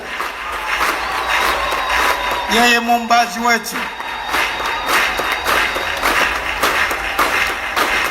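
A church congregation keeps clapping steadily in a big, reverberant room while a bishop preaches loudly over the applause.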